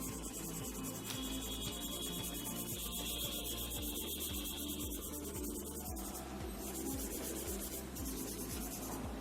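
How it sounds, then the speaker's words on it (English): Oil pastel colour is rubbed on paper with cotton, a soft repetitive scrubbing in a steady rhythm of strokes, close and faint with no talking. "Take your color and rub it again and then do it with the cotton."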